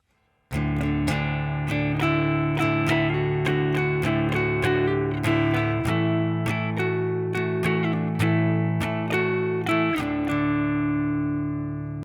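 Guitar strums a steady run of chords with sharp, regular attacks, each ringing out bright and full with no voices.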